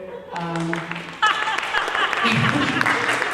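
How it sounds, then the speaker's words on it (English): An audience at a high school literary night breaks into applause for a stand-up comedy act, a brief clap rising to a dense, steady burst of clapping after a short spoken lead-in. "this is the most applause I've ever gotten"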